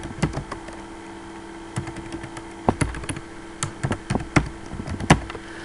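Keys clatter on a computer keyboard in quick irregular bursts of close, crisp clicks, with short pauses between runs and no talking.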